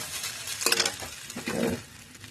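Fried rice with soybean mince being stirred in a frying pan at home: a few scraping stirs and clinks over a soft sizzle, fairly close, with no talking.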